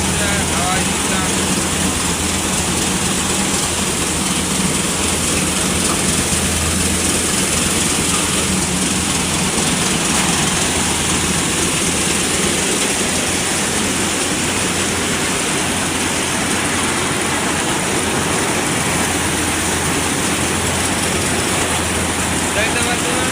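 An engine-driven paddy threshing machine with a gearbox works rice harvest in a field in Panchagarh, a loud, dense continuous roar and rush with a low engine drone, steady throughout as someone talks over it.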